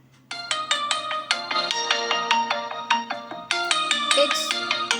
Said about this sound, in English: Okay, here's the sound on vibration, and just move on phone ring